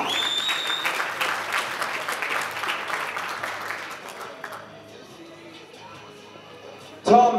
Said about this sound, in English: give a huge round of applause for your champion this evening